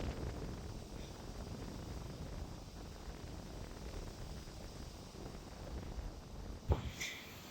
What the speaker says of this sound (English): the wind is blowing very hard.